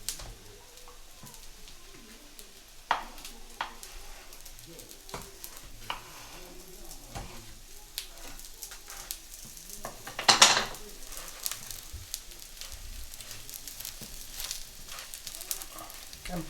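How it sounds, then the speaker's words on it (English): Aloo tikki potato patties sizzle and fry in a pan, with a steady soft crackle under scattered clinks and scrapes of a utensil turning them, fairly close and without talk. "So I'm going to flip these again."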